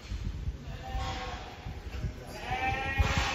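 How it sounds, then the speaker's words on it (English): Lambs bleating in pens at a livestock market, a few wavering calls at moderate distance over a steady background rumble of the sale hall. "This is the bit when we have a look at other people's lambs that are entered."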